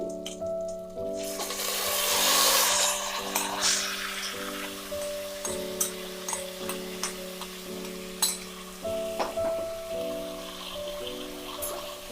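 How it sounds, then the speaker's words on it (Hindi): Mutton sizzles and fries with onions in a pan, a steady crackling hiss broken by scraping stirs, with a bright burst of spitting early on and faint background music underneath. "अच्छी तरह से मटन को हम प्याज के साथ मिलाकर भून लेंगे।"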